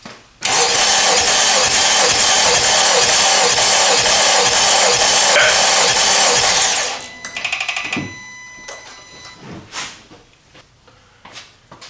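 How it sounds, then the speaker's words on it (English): A 2018-2022 Honda Accord at about 120k miles cranks steadily during a compression test on cylinder 4 with the spark plugs out, a loud rhythmic starter churn for about six seconds before it stops, followed by faint clicks and handling noises. "let's go crank cylinder number 4."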